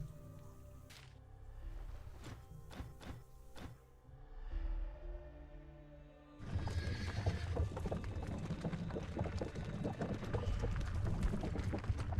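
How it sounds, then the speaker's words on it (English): Horses in the video game Stoneshard give a few sharp clopping hoof hits and a whinny, then a dense, steady rumble of galloping hooves and movement carries on loudly to the end. "we're ready to ride the horses"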